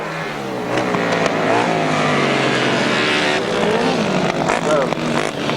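Grasstrack sidecar outfits roar away from the start at a 1992 Easter meeting, a dense, continuous wall of engine noise close by, with a commentator talking over it throughout.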